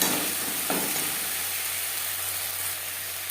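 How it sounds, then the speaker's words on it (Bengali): Ginger and green chilli paste stir-fries in a pan for a katla fish curry with eggplant, giving a steady, moderately loud sizzling hiss with a faint scrape of stirring. "দু তিন মিনিট নাড়াচাড়া করে নেব আদা লঙ্কার কাঁচা গন্ধ দেওয়া পর্যন্ত"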